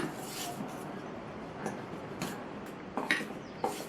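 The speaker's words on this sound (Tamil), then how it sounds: "உப்பு சேர்த்து நல்லா ஒன்றா மிக்ஸ் பண்ணி விட்டுக்கலாம்." Idli batter being mixed with rice flour and salt for masala bonda: soft, quiet scraping in a bowl with a few light utensil clinks scattered through.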